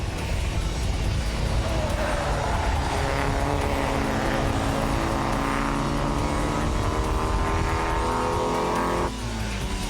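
Racing cars, including an Alfa and a Ford Capri, lap a circuit, running down a hill toward the final bend. The engine roar is continuous and loud, its pitch climbing steadily with no break.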